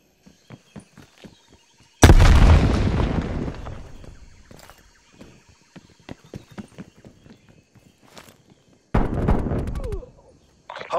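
Napalm strike explosions in Call of Duty: Black Ops Cold War, with two loud, broad roaring blasts that each rumble and fade over a couple of seconds. They sit among sharp clicking footsteps and small gunfire pops.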